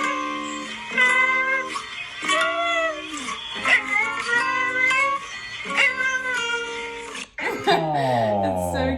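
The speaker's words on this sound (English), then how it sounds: "Just stroking a fake cat." A fake toy cat being stroked gives off a string of synthetic, sliding meows, about six separate calls in an uneven rhythm, loud and close.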